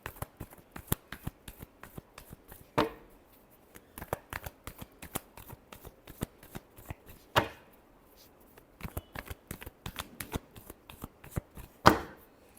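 Tarot cards being shuffled by hand in a run of crisp riffling clicks and slaps, with three louder bursts of fuller riffles spread across the stretch, close and alone without talk.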